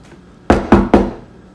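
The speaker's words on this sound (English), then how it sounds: "Knock, knock. The wolf rapped on the door." Three firm knocks land on a wooden cottage door in an even rhythm, close and loud against a quiet background.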